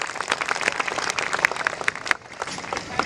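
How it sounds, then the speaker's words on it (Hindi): Enthusiastic clapping and applause from a live audience at a Hindi comic poetry performance, dense and steady over the whole stretch with sharp individual claps poking through the general roar. "युवा लोग ज्यादा तेज ताली बजा रहे हैं"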